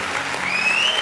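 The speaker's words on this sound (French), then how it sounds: "Maintenant, on va applaudir, s'il vous plaît, pour monsieur et madame" Audience at a Guinean event applauds a couple of guests with a dense, sustained wash of clapping throughout, joined by a shrill whistle partway through.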